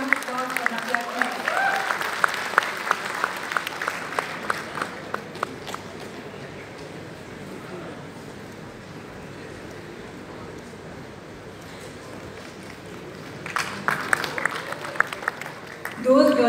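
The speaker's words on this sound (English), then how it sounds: "A huge round of applause for NAVYA Dang." Applause at a convocation award ceremony comes in two bursts, the first fading out after a few seconds and the second rising near the end, with scattered claps and quiet room noise in between.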